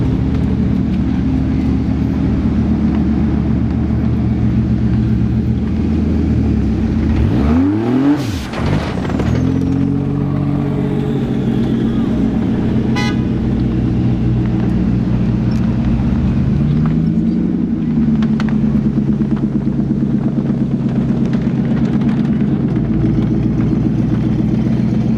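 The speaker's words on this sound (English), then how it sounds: "5 litre V8, absolutely mighty." A 5-litre V8 car accelerates at the Festival of Speed, passing with a loud engine roar whose pitch swoops sharply as it goes by, followed by a lingering rumble and a later fainter engine rise.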